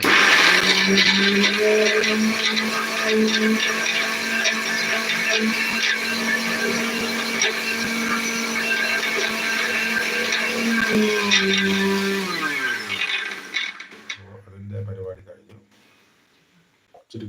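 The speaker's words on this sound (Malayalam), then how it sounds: "ഇതിനെ മിക്സിയിലിട്ട് അടിച്ചു കൊടുക്കണം" A mixer grinder blending chickpeas whirs loudly and steadily for about twelve seconds, its pitch dropping as it winds down, followed by a brief spoken word.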